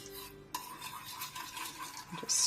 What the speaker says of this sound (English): so let's give this another stir here